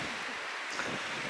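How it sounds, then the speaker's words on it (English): Wind blowing outdoors, a continuous broad rushing roar buffeting close to the microphone for a brief moment, with no speech. "it's really windy."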